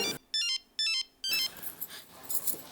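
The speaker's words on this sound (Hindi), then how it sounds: "जेठिया को फोन उठा।" A telephone in a home rings in two short electronic trills with a pause between, followed by clattering household noise and movement.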